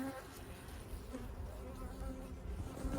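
Honeybees buzzing around an open beehive during a hive inspection, a faint steady droning hum with individual bees passing close.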